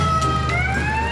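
Ambulance siren in GTA 4, a steady rising wail carried loud and continuous over a low rumbling engine and traffic bed.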